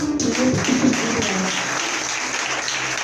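Congregation applauding at a church conference, a broad sustained wash of clapping that fills the room steadily and evenly from start to finish.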